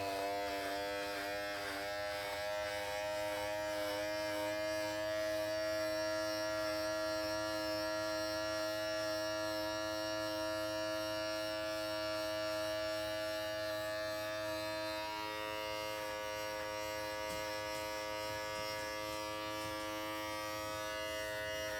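An electric shaver buzzes continuously up close, its steady whine shifting slightly in pitch as it is pressed and moved along a beard.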